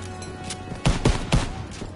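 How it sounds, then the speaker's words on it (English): Call of Duty WWII gameplay gunfire: a few sharp, loud shots in quick succession over a steady game background hum, with no talking. "I'm kind of shooting at people right now."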